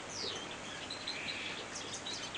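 Cage-bred British goldfinches chirping in an indoor bird room, with several high, quick twittering calls scattered over a steady background hiss, moderately close and without speech.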